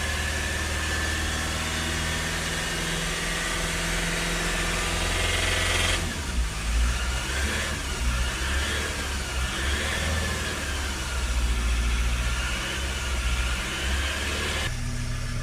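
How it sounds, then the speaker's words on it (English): A Ford Transit MK8 2.0 diesel van with a blocked DPF idles steadily with a low rumbling drone, its note dipping and wavering briefly midway as the revs sag, then settling back to a continuous running sound. "Okay, so we've at least got the engine running for a minute."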